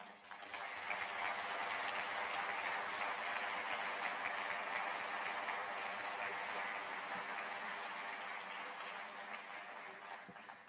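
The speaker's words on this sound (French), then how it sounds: "nous pouvons applaudir et encourager nos camarades en action" Members of a French federation congress clap during a plenary session. The applause is a continuous wash of many hands that builds quickly, holds steady for about ten seconds, then eases slightly.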